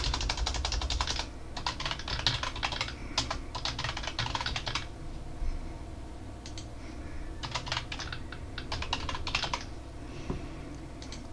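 Password being typed on a computer keyboard: quick bursts of close key clicks with short pauses between runs, fairly quiet, no voices.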